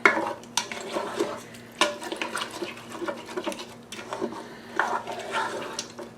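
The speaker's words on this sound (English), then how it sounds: "Scraping anything that's stuck on the bottom" Spoon stirring and scraping food stuck on the bottom of a cooking pot while making dinner, with repeated scrapes and clinks at an irregular rhythm, close and moderately loud, no talking.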